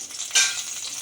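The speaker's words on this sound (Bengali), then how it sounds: "একটা গোটা পেঁয়াজ আমি বেটে রেখেছিলাম, পেঁয়াজটা দিয়ে দিচ্ছি" Ground onion paste hits hot oil for biryani, giving a sudden bright sizzle that flares up and settles into a steady hiss of frying, close and fairly loud.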